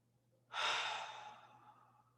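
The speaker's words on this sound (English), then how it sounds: "I want you to take 3 deep breaths. I'm going to do it with you." One slow, deep breath is drawn in and let out, a soft airy rush beginning after a short quiet start, close by and faint, then tapering off.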